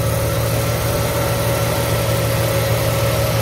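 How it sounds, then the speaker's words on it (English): An engine-bay cooling fan whirs steadily on a 1997 Mustang 3.8, a loud constant drone with a steady tone and engine hum beneath it, no voices. "And I got the fan. The fan is running now."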